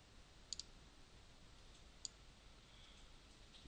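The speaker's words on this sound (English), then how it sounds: "click on OK" A computer mouse clicks faintly in a quiet room, one crisp double click followed by a single click a moment later, each brief and close.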